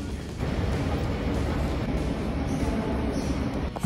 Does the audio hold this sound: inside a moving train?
yes